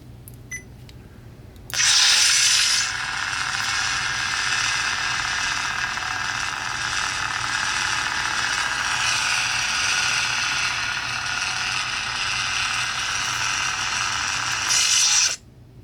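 A Neopixel Teensysaber lightsaber with a Phoenix Props crossguard ignites with a sudden loud burst and settles into a sustained buzzing hum, then shuts off abruptly about thirteen seconds later, heard close with no talking.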